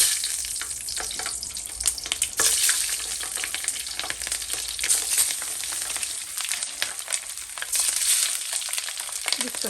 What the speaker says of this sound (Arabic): اول حاجه هنقليها هنقلي الفلفل